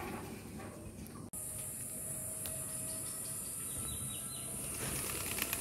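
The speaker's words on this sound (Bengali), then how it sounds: "কবুতর গুলো উড়ে গেল" Pigeons take off with a brief burst of wing flapping, close by and outdoors against steady background noise and insect-like hiss, no talking.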